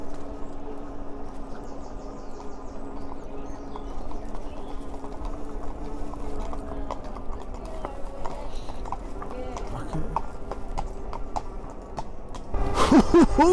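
Hooves clip-clop steadily as horses walk on a hard surface, passed by an ENGWE Engine Pro 2.0 e-bike, with a low engine idle and faint insect chirps in the background; a loud burst closes the stretch.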